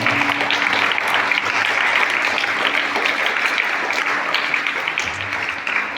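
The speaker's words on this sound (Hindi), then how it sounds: "उन वीर बलिदानियों के लिए भी जोरदार तालियां" A crowd, including schoolchildren at a commemorative event, gives loud sustained applause for fallen martyrs, many hands clapping densely and close, with a faint steady tone beneath that fades slightly toward the end.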